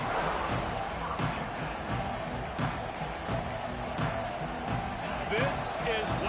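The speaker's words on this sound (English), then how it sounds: "This crowd ready to make its presence known." Stadium crowd in the NCAA 26 football video game roars steadily throughout, a loud continuous wash of cheering under game commentary with occasional sharper thumps and swells.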